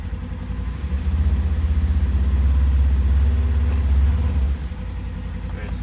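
A Polaris General XP utility vehicle on 32-inch tires, fitted with Gilomen clutching, running in reverse. Its engine drones low and close, swells for a few seconds, then settles back to a steady idle-like hum.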